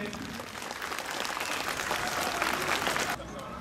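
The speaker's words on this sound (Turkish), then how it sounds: "Bir alkış rica edebilir miyim?" Applause from a crowd at an outdoor iftar gathering in a school garden, a few seconds of dense clapping that swells and then cuts off, with a voice faintly present.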